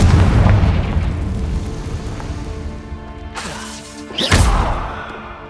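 A Confringo blasting spell explodes in the Hogwarts Legacy video game, a loud booming blast that rumbles and fades, then a second sharp crash with a whooshing burst near the end, no talk.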